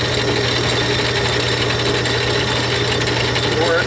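A lathe machining a part runs with a steady mechanical hum and buzzing vibration, loud and continuous, with a voice talking faintly over it.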